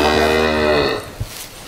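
A cow moos once, long and loud at close range, on a farm pasture, followed by a soft thump and faint background noise.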